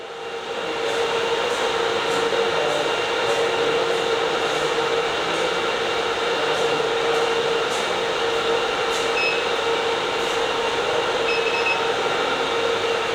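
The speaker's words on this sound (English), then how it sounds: "So this was all about this machine, 110 100 ampere BCDS battery discharging system." A 110V 100A lithium-ion battery discharging system runs steadily, giving a constant loud electrical hum with a cooling-fan whoosh and a fixed tonal whine, holding even throughout with no talk.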